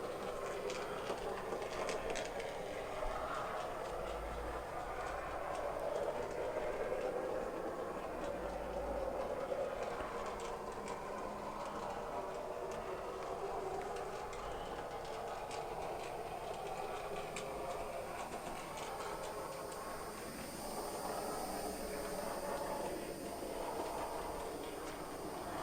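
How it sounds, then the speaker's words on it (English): The wheels of a Farish LMS 3F Jinty N gauge model locomotive run along the track with a faint, steady rolling hum and light clicking, quiet and close throughout. "the only sound which is coming off it is just the wheels on the track."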